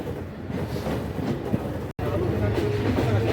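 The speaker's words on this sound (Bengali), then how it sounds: "আমাদের ট্রেন কিন্তু যশোর জংশন ছেড়ে দিয়েছে এইমাত্র ছাড়লো" Ruposhi Bangla Express train running just after leaving Jessore Junction, a steady rumbling rail noise with faint rhythmic clatter, broken by a brief near-silent dropout midway.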